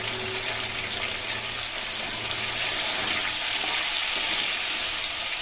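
Chopped tomatoes hit fried paneer cubes in a pan, setting off a steady, loud, hissing sizzle that holds evenly throughout with no voices.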